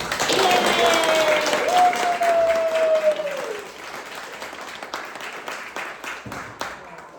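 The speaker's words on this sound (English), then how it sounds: "can we give a round of applause to our beautiful..." Audience applause at an art exhibition talk on Korean diaspora art and shamanism: a loud, steady wash of many hands clapping, a voice briefly sounding over it early on, then thinning and softening toward the end.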